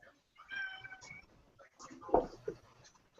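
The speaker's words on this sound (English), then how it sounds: "My cat wants to go next. I know, I hear meowing." A house cat meows briefly in the background during an online group hangout, with a couple of short mid-pitched calls under and between people talking.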